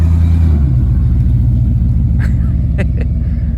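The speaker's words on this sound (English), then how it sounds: "It's a lot quieter on the grass than it is on pavement" A square-body pickup truck spins its rear tire in a burnout on grass, a loud, continuous low engine rumble that eases slightly after the first half-second, with a few sharp clicks and knocks over the top.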